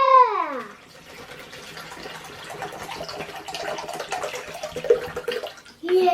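Tap water runs steadily into a Ziploc bag for a kids' leak-proof bag experiment, a continuous splashy hiss between a voice at the start and at the end.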